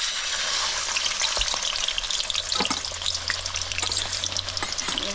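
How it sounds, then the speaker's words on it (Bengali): Tuna fish frying in hot mustard oil in a pan sizzles loudly and continuously, a dense close crackle with occasional sharper pops and no talking. "মাছগুলো একটু ভালো করে ভাজা করে নেব"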